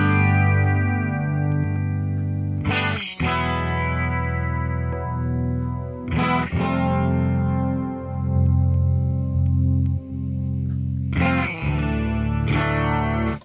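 A distorted, chorus-treated electric guitar runs through an Axe effects unit as its low end is adjusted, heard as long sustained chords with heavy bass that are struck again every few seconds, loud and close with no voices.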